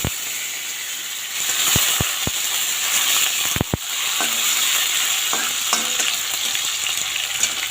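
Long-cut potato strips frying in oil with black cumin seeds in a wok, a loud continuous sizzle with a few sharp clicks of a utensil against the pan, close-up and without talking.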